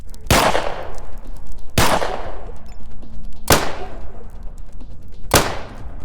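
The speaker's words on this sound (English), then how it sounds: "Arkadjevich and his crew open fire." Four loud, sharp gunshots ring out in the video game ATOM RPG Trudograd, evenly spaced about one and a half seconds apart, each with a decaying tail over a low ambient drone.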